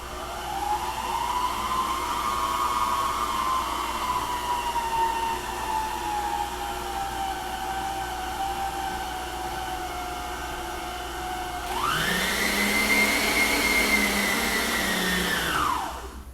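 An electric mixer slowly beats cake batter of dry ingredients and creamed butter, a continuous whirring drone that drifts in pitch, then jumps to a higher, louder speed near the end before easing off.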